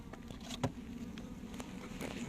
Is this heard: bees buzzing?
yes